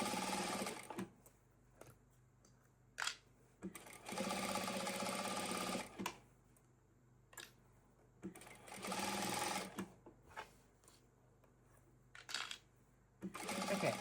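A sewing machine topstitches along a quilt edge during machine binding, running in several short bursts of fast, steady whirring with quiet pauses between runs.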